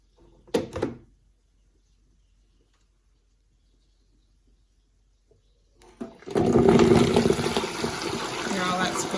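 Brief clatter, a long quiet pause, then a loud, steady hiss and crackle of spinach frying hard in deep-fryer oil at about 350 degrees.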